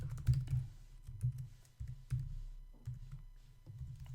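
Fingers type on a computer keyboard nearby while someone writes PHP code, producing quick bursts of soft clicking keystrokes separated by brief pauses, with no voice heard.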